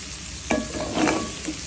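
Bitter gourd slices fry in a pan while being stirred, with a close spatula scrape and clatter over a steady, soft sizzle of hot oil.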